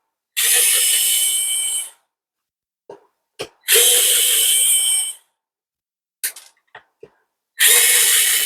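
Power screwdriver whirring in three bursts of about a second and a half each, backing out Torx T8 screws on a Dyson V10/V11 cordless vacuum, with short clicks and handling taps between the runs and no talking.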